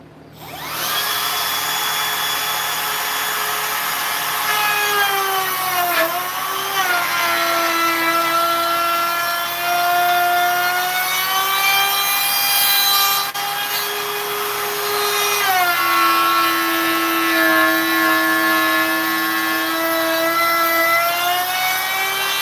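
Dense maple wood is cut against the grain with a loud, sustained, whining tool drone that dips in pitch twice as it bites under load, close up with no talk.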